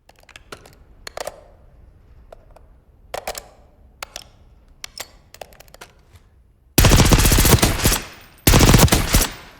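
The AEK-971 rifle fires at a Call of Duty Black Ops 6 firing range. Scattered clicks and handling taps come first, then two loud sustained bursts of automatic fire near the end.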